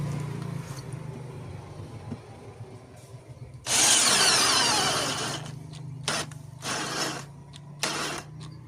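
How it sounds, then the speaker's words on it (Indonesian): A 12-volt cordless drill with an 8 mm auger bit, in speed 2, whirs into wood in several bursts: one long loud run, then three shorter pulses with quiet pauses between, up close and no voices. "mode drilling kecepatan 2"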